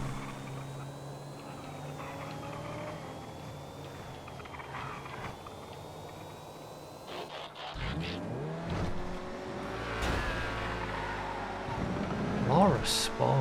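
A Laura Sport car in a GTA FiveM driving game, its engine droning steadily, then revving and surging partway through with a tire squeal near the end, while a person talks over it.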